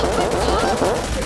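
Loud automatic gunfire in a battle royale shooting game, fired through a six-times scope, sounds as a rapid continuous burst of shots with a voice faintly underneath.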